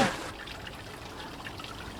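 Small outdoor fountain trickling water beside a decorated house, a faint steady trickle and splash that continues evenly after a brief louder noise at the start.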